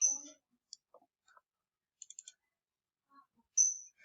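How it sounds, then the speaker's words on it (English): Several sharp, quiet computer mouse clicks come in short, scattered bursts against near silence while an email is opened. "Click on it."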